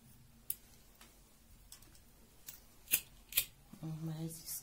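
Scissors make two quick, sharp snips through crochet thread during work on a floral crochet table centrepiece, followed by soft handling and a brief low murmur.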